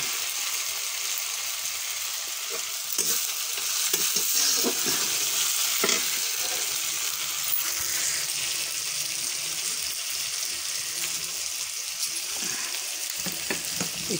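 Fish curry with onions sizzling in a pot on a stove, a steady bright frying hiss with occasional stirring scrapes and clinks, moderately close.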